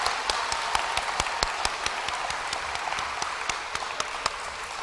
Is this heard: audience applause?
yes